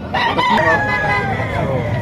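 A rooster crows once, loud and close, a drawn-out call amid the murmur of a busy chicken market.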